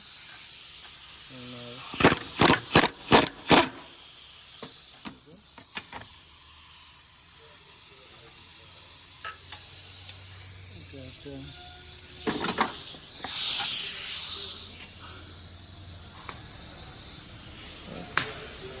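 A pneumatic air impact gun works the exhaust bolts of a 2.4 Honda Accord during a catalytic converter replacement: several short, loud rattling bursts close together early on, then scattered shorter hits and a hissing air release, with quiet spells between.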